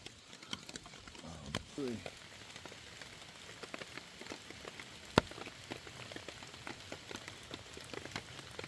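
Rain patters steadily on a tent along the Appalachian Trail in Maryland in July, a dense, close spatter of drops with a few sharper taps standing out.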